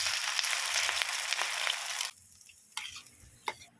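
Sardine and malunggay omelette frying in hot oil, a loud steady sizzle for about two seconds that drops to a quieter crackle with a few sharp spatters near the end.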